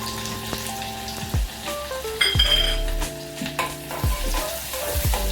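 Onion sautés in a pan with cumin and fenugreek for kulith pithi, a steady loud sizzle broken by clinks and scrapes of a metal spoon stirring.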